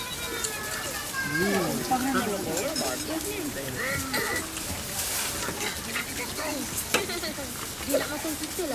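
Chicken fries and sizzles in hot oil over a camp stove in the cool Cameron Highlands, a steady crackle running throughout beneath lively nearby chatter and voices.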